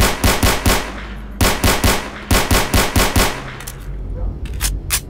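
Quick volleys of sharp, loud pistol shots in S.T.A.L.K.E.R.: Call of Pripyat with the Arsenal Overhaul mod, in tight clusters of three or four, followed by a few scattered, fainter shots and a quieter tail.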